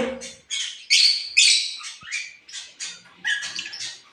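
Pet birds in cages, with freshly hatched chicks among them, let out a quick string of bright chirps and squeaky calls in separate bursts, close by and fairly clear against a quiet background.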